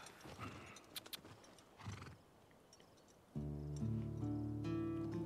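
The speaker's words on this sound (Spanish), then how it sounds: "Ah, los caballos." Horses neigh and hooves clip-clop faintly in The Last of Us Part II, with short whinnies and scattered hoof sounds in a quiet open setting. Partway through, a loud sustained musical tone takes over.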